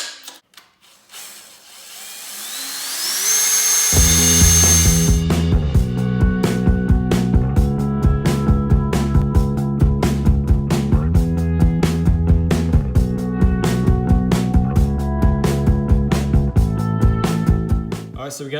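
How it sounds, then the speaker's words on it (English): A power drill bores a hole through the side panel of an off-road mower during a trailer winch install. It spins up with a rising whine, then settles into a loud, close, steady motor drone with rapid rhythmic chatter. "the next, probably most crucial thing is drilling a hole in the side of here"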